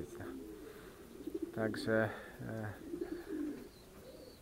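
Racing pigeons at their loft after landing from a race give soft low coos, heard intermittently beneath and between a man's speech nearby.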